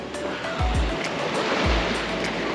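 Sea waves wash steadily onto a beach in Phuket, a broad continuous surf rush with a few low thumps from wind buffeting the microphone, and no talk.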